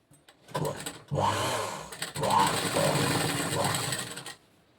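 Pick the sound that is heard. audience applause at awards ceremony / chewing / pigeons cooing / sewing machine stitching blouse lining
sewing machine stitching blouse lining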